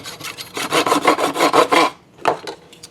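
A hand saw cuts through the plastic cannon of a toy X-Wing resting against a workbench, about eight quick, rasping back-and-forth strokes up close, then a pause and a couple of softer scrapes.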